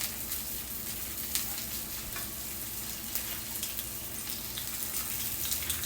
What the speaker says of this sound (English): So I'm going to pan fry these up.